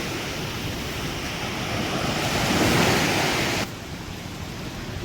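Steady roar of sea waves washing onto the shore at Varkala beach, Kerala, swelling then easing, with wind rushing across the microphone and no voices.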